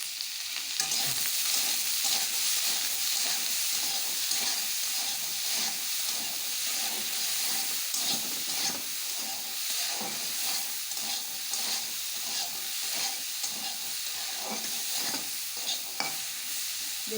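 Potato and paneer frying in a pan with salt and turmeric, a continuous close sizzle broken by repeated scraping and stirring strokes of a spatula, no talk.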